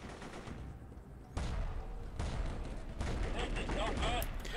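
Video game gunfire in Warfare comes as fast bursts of automatic shots and heavier blasts, dense and continuous through the clip, with a sharp loud volley about a third of the way in.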